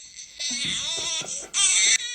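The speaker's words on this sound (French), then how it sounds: "Pourquoi j'entends des cris de bébé?" A baby cries in rising, wailing bursts that grow louder and sharper toward the end, close and alone.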